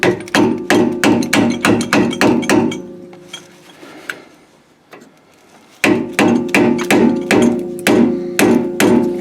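A chisel-edged tool is hammered against a rear differential seal on an F-150, sharp metallic taps in quick rhythmic bursts, a pause with faint handling noise, then another fast run of loud, close strikes.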